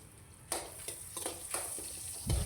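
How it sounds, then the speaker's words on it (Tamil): Chopped garlic sautés in a pan for dal sambar, giving a soft, quiet sizzle broken by a few light scraping stirs of a spatula against the pan. "4 பல் பூண்டு பொடியாக கட் பண்ணி வச்சுருக்கேன், அதை சேர்த்துடலாம். பூண்டு ஒரு 2 நிமிஷம் நம்ம வதக்கி விட்டுடலாம்."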